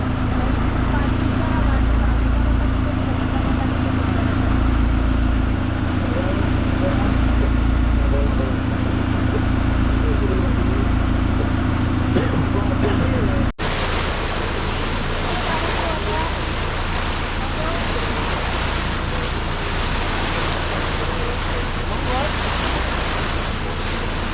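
A fishing boat off Mumbai heads out into deep sea, its engine a steady low drone under constant wind and rushing waves, loud and continuous, with the tone shifting partway through.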